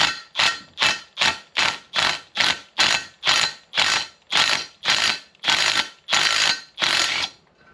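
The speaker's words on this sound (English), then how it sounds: "put the impact gun on reverse, and we're going to try to remove the stud" An impact gun running in reverse to back a stud out of a ported D-series cylinder head being assembled for a turbo build fires a steady series of about thirteen sharp, loud hammering bursts, close up with no talking.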